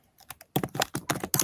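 Quick clusters of key presses on a computer keyboard, faint at first and then louder and closer, in uneven bursts with no voices.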